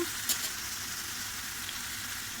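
Spices sautéing in a pan during home cooking, a soft continuous sizzle with a faint stir near the start, quiet and close.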